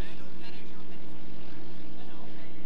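Racing motorboats with 5-litre engines drone steadily during a 1990 qualifying heat at the Valleyfield regatta in Quebec, a continuous, moderately distant engine roar with no clear change in pitch.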